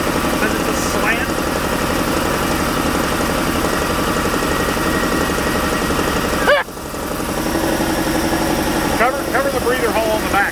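An old Dodge D150 truck's slant-six engine idles steadily throughout with a low, even rumble, briefly dipping partway through, while voices speak over it.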